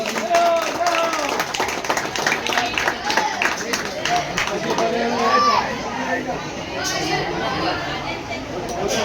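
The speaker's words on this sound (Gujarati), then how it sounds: "એમને જોરદાર તાળીઓથી વધાવજો" An audience applauds at a Navratri award ceremony in Vikhroli, with steady clapping mixed with crowd chatter and nearby voices throughout.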